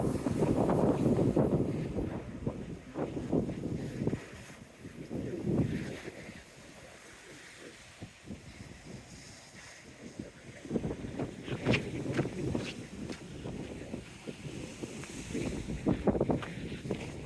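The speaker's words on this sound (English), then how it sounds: "Lovely, despite the wind." Wind gusting along a seawall and seafront, a loud roaring buffet against the microphone that swells and eases in surges, with faint splashy texture underneath and no talking.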